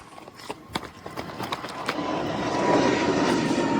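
An airplane runs near an airport runway during plane spotting: scattered clicks and knocks at first, then a broad engine roar that swells steadily and stays loud and fairly close to the end.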